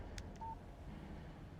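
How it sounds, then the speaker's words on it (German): A phone text message notification in the Alan Wake Remastered video game gives a short, faint tonal chime over a steady low in-game ambient bed, with a couple of brief higher blips just before it. "Text message from Barry."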